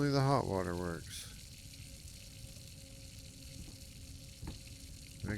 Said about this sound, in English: Again, only the hot water works.